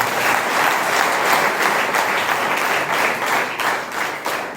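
A church congregation at Evangelical Restoration Church claps loudly in a sustained, dense round of applause that swells and eases slightly over several seconds, with no talking.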